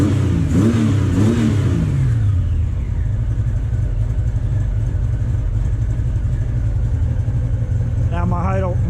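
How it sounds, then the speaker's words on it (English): A motorcycle engine idles steadily at a slightly raised, strong-running idle after a carburetor sync, close and loud, with a brief rev near the start and a person speaking at the beginning and end. "Now my idle went a little higher. It's running a little strong."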